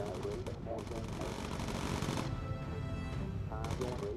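Enemy gunfire in the Bomber Crew video game rattles as a steady burst under the game's noise. The shots run in a dense, fast stream of rapid cracks and are moderately loud throughout.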